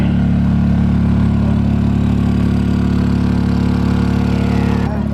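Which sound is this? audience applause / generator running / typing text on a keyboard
generator running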